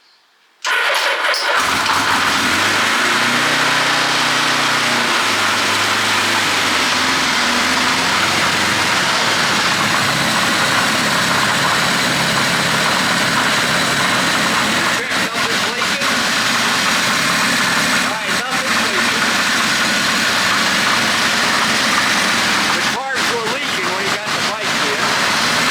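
A Suzuki GS1100E motorcycle under overhaul in a garage cranks briefly, catches and settles into a loud, steady running idle that continues for about twenty-five seconds.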